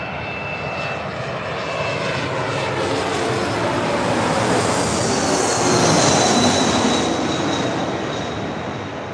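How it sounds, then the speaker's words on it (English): Cessna Citation Latitude business jet on approach to land at LAX, a loud steady engine roar that swells toward the middle and then eases, with no voices over it. "This Cessna Citation latitude is coming in from 413"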